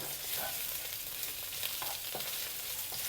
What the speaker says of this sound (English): Next, we'll add in the stem of 2 spring onions.